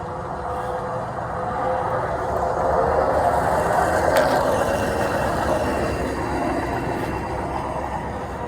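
A train rolls past on the tracks, a loud, continuous rumble and clatter of wheels that swells and then eases slightly.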